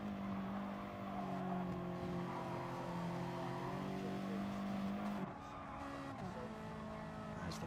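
A Ferrari 458 race car in a racing game at the Nurburgring GP circuit, its engine holding a steady high-revving drone, then dropping and shifting near the end, with light tire noise underneath.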